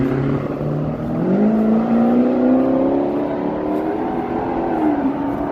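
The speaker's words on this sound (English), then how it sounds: "Listen to that noise pollution. The cars just polluting the air with noise." Steady city traffic drone near a Chicago lakefront walk at lunchtime, with engines rising and shifting in pitch as cars drive past, loud and continuous with no talk.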